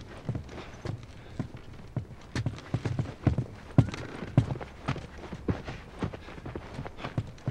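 Horse hooves clip-clopping at a walk in The Last of Us, a steady run of close, moderately loud hoofbeats over a low ambient bed, with no talking.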